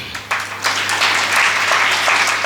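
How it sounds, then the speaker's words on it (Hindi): Listeners at a Jain temple altar consecration gathering break into applause after a monk's sermon, a few scattered claps quickly swelling into steady, dense clapping that fills the hall. "उन्हें सबने ताली बजा दी।"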